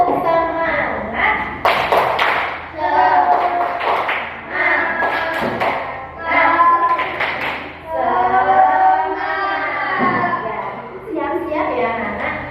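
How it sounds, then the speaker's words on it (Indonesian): A third-grade class does a rhythmic spirit clap, chanting together with sharp claps and thuds between bursts of children's and a teacher's voices, fairly close and lively. "Kita tepuk semangat dulu yuk."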